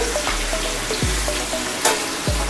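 Jackfruit kofta curry frying in a pan gives a steady loud sizzle, with a spoon scraping and stirring through it in several distinct strokes; no talking.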